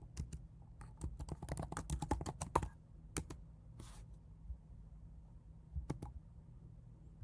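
Computer keyboard typing while writing R code: a quick burst of clustered keystrokes, then a few scattered clicks, close and fairly quiet over a low hum, with no one speaking.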